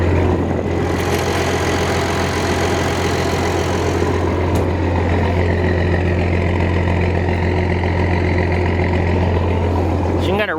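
A Massey Ferguson 760 engine with a hard-starting problem runs loud and close in a steady deep drone with a strong low hum, holding even throughout.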